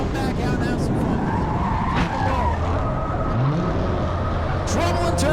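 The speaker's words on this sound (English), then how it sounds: "Trouble in turn 4, one car hard into the outside wall." Tires squeal and race cars roar at a New Smyrna enduro race as a car slides after hitting the outside wall in turn 4, loud engine noise throughout with a commentator talking over it.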